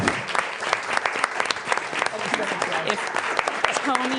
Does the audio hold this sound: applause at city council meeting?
yes